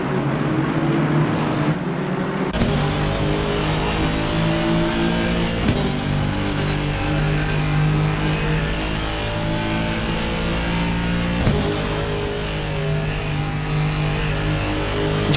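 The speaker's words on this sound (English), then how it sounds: "You can hear the modulation of the throttle. Yeah, you can hear the revs." Race car engines in a sim racing game at Bathurst rev and rise in pitch as the throttle is modulated, loud and continuous, with the revs repeatedly climbing and dropping.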